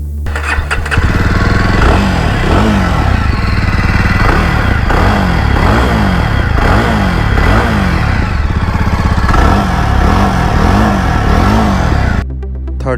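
A Jawa Perak's 334cc liquid-cooled single-cylinder engine revs loud and close, a steady throbbing drone rising and falling in repeated pulls before it cuts off near the end.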